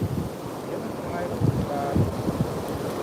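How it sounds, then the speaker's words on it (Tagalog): Strong wind buffets the microphone at a carp fishing spot by the water, a constant rough roar with gusty surges and faint voices underneath. "Malakas talagang hangin"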